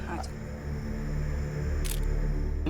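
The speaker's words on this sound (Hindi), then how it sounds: "आ जाओ जरा ये फोटो खींचो फटाफट" A camera shutter fires at a group photo, two quick sharp clicks near the start and another around the two-second mark, heard over a steady background murmur.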